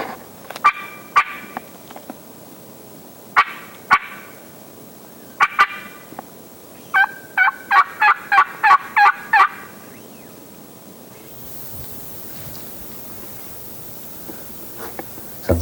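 Wild turkey gobbles ring out on a Minnesota public-land ridge, several bursts in a row: single calls spaced apart early, then a rapid cluster of sharp gobbles, clear and fairly close against quiet woods.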